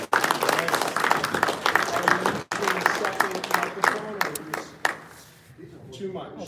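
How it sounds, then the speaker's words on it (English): A crowd at an evening conservation talk applauds to welcome the speaker, lively clapping with voices mixed in that thins out toward the end as people start talking. "please give Chris a big round of welcome applause"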